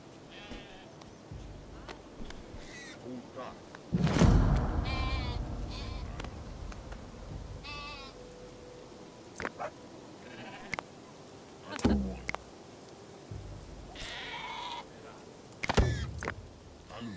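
Sheep bleat several times in the Dawn of Man strategy game, the bleats spaced irregularly among faint ambient farm and stable noises, with a few louder knocks and bumps in between.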